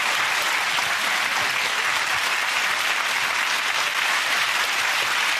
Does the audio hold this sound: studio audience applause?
yes